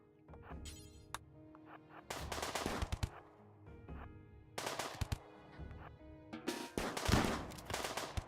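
Bursts of video-game gunfire from a RimWorld colony battle with a mechanitor start, rapid volleys of close shots cracking in clusters, separated by short gaps, with no voices.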